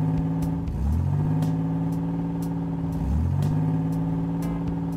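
A toy monster truck stuck on rail tracks revs its engine twice in rising surges, each whine climbing then holding at a steady loud drone.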